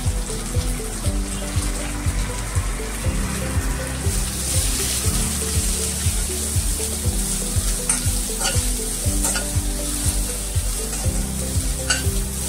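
Hand-crumbled sliced onion frying in oil for a home-style okra stir-fry, with constant loud sizzle and a regular rhythm of spatula stirring strokes scraping the pan throughout, close and with no voices.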